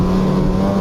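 A snowmobile engine in town during a Gaspé, Quebec trip, holding a loud, steady low hum as it revs down, with a strong tonal drone for a brief moment.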